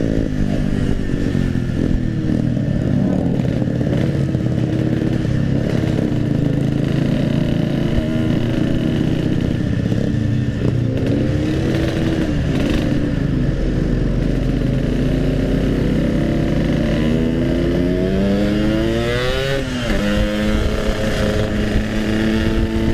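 Yamaha RX King two-stroke motorcycle engine revving loud and close for a long stretch, a raspy continuous drone with rising and falling pitch as the throttle is worked, no voices.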